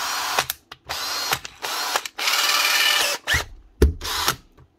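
A repaired Hitachi (Hikoki) cordless drill fitted with a new motor runs in short bursts and one longer sustained whir, with trigger starts, stops and clicks between them, close up and without speech.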